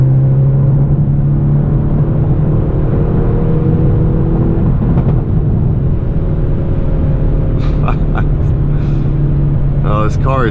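Engine of a Hyundai Veloster N pulling hard in fourth gear during a night drive, a steady loud low drone with rising tonal harmonics and brief higher whines near the end, while someone talks over it.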